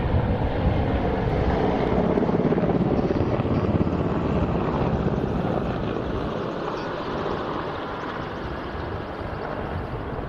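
A Czech Republic Mil Mi-17 Hip helicopter arriving at the Royal International Air Tattoo air show, its heavy continuous rotor and engine roar loud and steady throughout, easing slightly toward the end.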